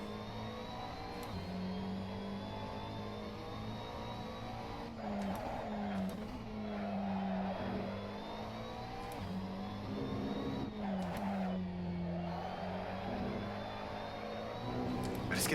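A GT3 race car engine drones and revs through corners at Sochi in Assetto Corsa, pitch climbing and dropping with shifts, while a voice talks over it.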